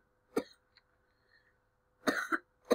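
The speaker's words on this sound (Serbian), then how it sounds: "Opet sam se kašao." A person coughs alone, a single sharp cough followed after a pause by a tight burst of two or three close, fairly loud coughs.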